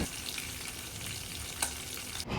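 Chicken nuggets fry in hot oil, a dense, even sizzle heard up close and fairly loud, with faint crackles and a brief utensil clink near the end.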